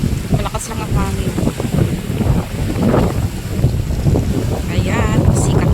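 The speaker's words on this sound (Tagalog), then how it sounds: "Malakas lang ang hangin." Strong wind buffets the microphone with a loud, continuous rushing roar; faint voices come through underneath.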